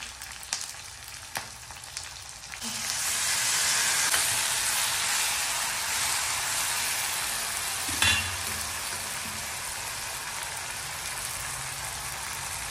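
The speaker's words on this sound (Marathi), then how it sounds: "आता पत्ता गोबी टाकायची याच्यामध्ये। छानपैकी असं परतून घ्यायचं।" Cabbage tossed into a hot pan with carrot and capsicum for homemade noodles, breaking into a loud, steady sizzle with faint stirring and scraping, no talk.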